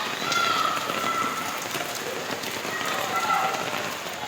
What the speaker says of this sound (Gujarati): સુરત શહેરમાં વહેલી સવારથી સતત વરસાદના કારણે આખું સુરત શહેર પાણીમાં ગરકાવ થયું છે